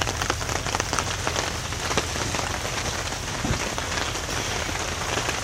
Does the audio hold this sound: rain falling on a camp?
yes